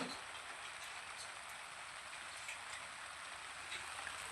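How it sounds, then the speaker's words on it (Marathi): Steady monsoon rain falls continuously in a village, a soft, even hiss of drops on surfaces with no pauses and no voices. "तर आमच्याकडे ना सारखा पाऊस चालू आहे बघा."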